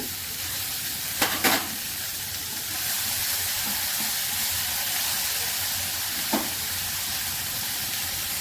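Cauliflower with salt and turmeric sizzles steadily in a pan, a continuous frying hiss broken by a few sharp clinks of a utensil against the pan.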